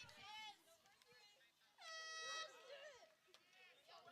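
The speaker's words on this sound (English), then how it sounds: "The air horn sounds," A loud air horn blasts twice at a high school varsity softball game, a short burst then a longer sustained blare, with crowd noise and faint talk around it.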